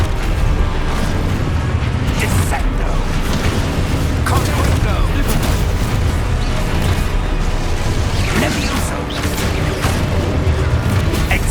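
Spell effects from the Expulso explosion charm in Hogwarts Legacy, heard as a dense, continuous wash of booming blasts and crashing game sound under excited talking.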